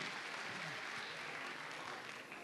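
Audience applause at a Turkish school event thanking the municipality, a steady dense wash of many hands clapping at moderate distance, sustained evenly throughout with no voices standing out.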